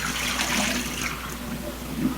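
Water pours and splashes steadily through a mesh screen as sprouting seeds are drained, a continuous close trickling wash with no talking.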